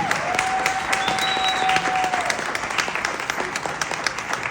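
Steady applause from a crowd at a political slate event, dense clapping throughout with a faint whistle and a few voices mixed in.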